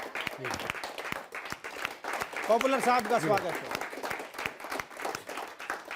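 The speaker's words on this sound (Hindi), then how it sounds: "जोरदार तालियों से स्वागत करते हैं जनाब पॉपुलर मेरठी का" Applause and scattered clapping from a mushaira audience greeting the humorous poet Popular Meeruthi, steady throughout and mixed with a host's voice speaking over it.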